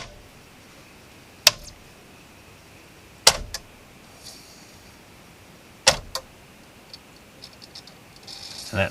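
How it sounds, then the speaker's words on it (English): Sony CD player mechanism with the laser hunting for a track: sharp isolated clicks at irregular intervals, a couple in quick pairs, over a faint whirring hiss, close and fairly quiet, with no voices. "that noise is the laser sort of hunting"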